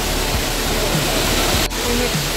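Tinago Falls rushes with a constant, loud, dense roar of falling water that fills the scene steadily from start to finish.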